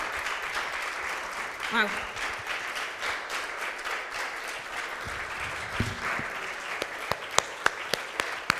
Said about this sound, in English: A much deserved applause.